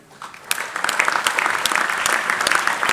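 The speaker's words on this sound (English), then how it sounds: "Applause." Applause at a university graduation ceremony as graduates' names are called, building from quiet to a sustained dense clapping from a large hall audience with crisp individual claps.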